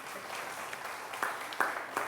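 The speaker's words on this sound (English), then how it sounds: "Octavius Curry, y'all give him a round of applause." Faint scattered clapping from a school audience honoring a fourth-grade student, soft and thin with a few sharper claps toward the end.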